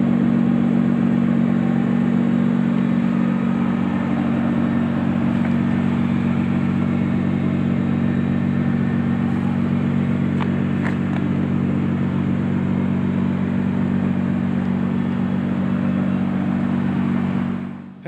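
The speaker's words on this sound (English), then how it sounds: "I'm gonna try to let you hear the exhaust here." Steady low idle of a 2017 Nissan GT-R Premium supercar's exhaust, a constant deep drone held evenly for the whole stretch with only faint ticks above it and no talking.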